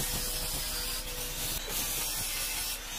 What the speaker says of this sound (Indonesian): Sebelum pemasangan kita amplas dulu